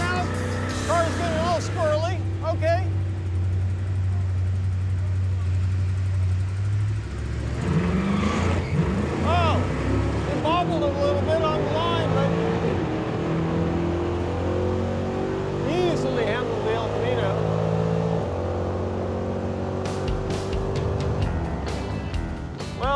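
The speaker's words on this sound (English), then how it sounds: "he's doing his burnout. Car's getting all squirrely" A Chevrolet Camaro doing a burnout at a drag strip, its engine roaring and climbing in pitch, loud and close, as the car gets loose, with people talking over the noise.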